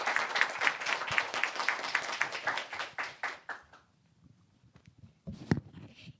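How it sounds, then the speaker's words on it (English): An audience claps for a panel of speakers after a discussion on modelling at the nexus of crises, dense applause for about three seconds that thins out and fades, with a few scattered claps afterward. "may I invite all of you to give my fellow panelists a round of applause for their very good answers"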